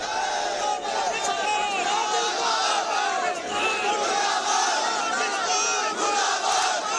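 Large crowd of young people gathered with national flags, chanting in unison amid tension over an India–Pakistan conflict; a dense, continuous roar of many voices shouting together, loud and sustained throughout.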